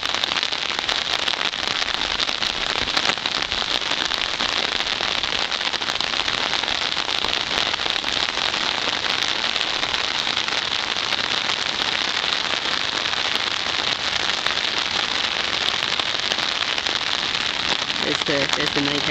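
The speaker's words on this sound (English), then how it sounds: "It's raining" Heavy rain pours steadily, a dense, constant hiss of drops pattering on surfaces for the whole stretch.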